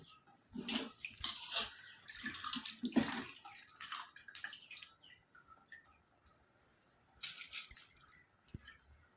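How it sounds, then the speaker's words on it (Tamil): Soaked basmati rice tipped into a pot of boiling water for a country-chicken biryani, giving a few close splashy pours and rattling grains in bursts, then a quieter simmering stretch before another brief pour near the end. "இந்த நேரத்தில் இருபது நிமிஷமாக ஊறின பாஸ்மதி அரிசியை ஆட் பண்ணிக்கோங்க"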